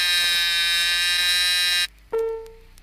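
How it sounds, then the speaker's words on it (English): Chrysler seat belt warning buzzer sounding as a loud, steady harmonic drone close up for nearly two seconds, then cutting off; after a brief gap a softer, lower tone starts and fades. "The buzzer and light should come on."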